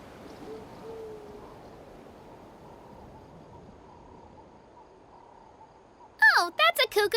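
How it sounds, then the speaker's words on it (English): A cuckoo soar bird in the video game Genshin Impact gives a burst of sharp, rapid, chirpy calls at the very end, loud and close, after a long stretch of faint hum. "that's a cuckoo soar. They fly high and fast, and they're always full of energy"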